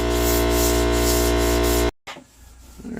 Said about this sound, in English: Junior sanding and smoothing his hood scoop while the hood dries